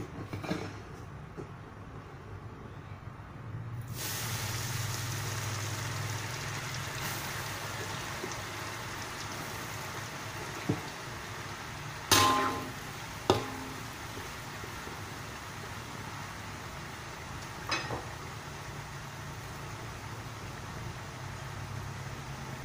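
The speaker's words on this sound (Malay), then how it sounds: "Okey, saya goreng kali kedua." Murukku frying a second time in hot oil produces a steady, soft hiss and crackle that starts after a few seconds and continues evenly, broken by a few brief knocks and clinks.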